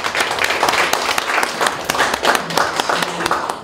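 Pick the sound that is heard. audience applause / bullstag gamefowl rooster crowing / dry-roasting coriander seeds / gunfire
audience applause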